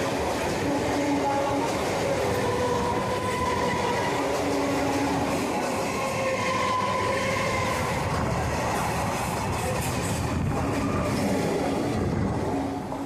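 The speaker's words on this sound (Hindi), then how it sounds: "अब हमारे ट्रेन को क्रॉस करेगी नेहट्टी लोकल।" A Naihati local train passes alongside on the Sealdah–Barrackpore suburban line, a continuous loud rumble of wheels and carriages close by, with rhythmic clatter and steady rail noise and no talking.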